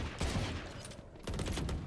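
Rapid gunfire in the shooter game Valorant during a tournament match on Lotus, dense overlapping bursts in two clusters with a brief lull between, no voices.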